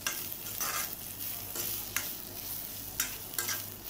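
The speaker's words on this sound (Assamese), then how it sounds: "এইখিনিও ধুনীয়াকৈ চাৰিওফালে যাতে তেল লাগি যায় তেনেকৈ ভাজিব" Pounded dry fish fries with oil and onion in a pan, a steady hiss broken by several bursts of scraping as it is stirred, close and moderately quiet, no voices.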